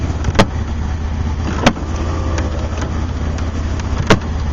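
Sharp clicking from a Chevrolet Blazer's window, three distinct clicks spaced a couple of seconds apart over the steady low hum of the idling vehicle.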